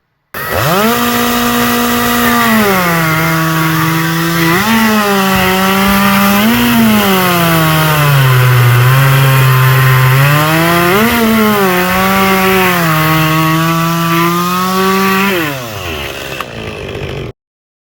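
A chainsaw cuts through wood, either an EGO battery arborist saw or a STIHL 201T. The motor drones loudly and steadily, its pitch sagging and recovering under load for about fifteen seconds before winding down.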